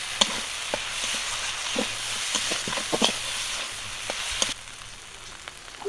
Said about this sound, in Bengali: আলুটা হালকা একটু ভেজে নিয়েছি।